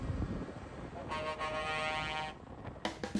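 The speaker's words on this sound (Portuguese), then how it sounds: "no caminho cruzamos com um busão e até rolaram buzinas pra gente" A bus horn blares for over a second amid road noise, followed by a couple of short honks.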